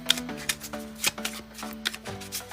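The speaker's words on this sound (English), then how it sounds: "the magician can hand the spectator the deck and they can shuffle it up" A spectator riffles and shuffles a deck of playing cards up close, a run of crisp flutters and snaps repeating irregularly, alone with no talking.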